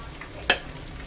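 Ukoy fritters of anchovy, sweet potato and carrot in hot cooking oil give one short, sharp sizzle-and-stir burst against a quiet background.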